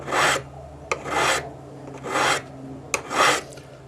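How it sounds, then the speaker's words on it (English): Four long rasping strokes of a flat number 2 cut file across a metal bangle, evenly spaced with short pauses and small knocks between, close and clear with no talk. "So just take your flat number 2 cut file."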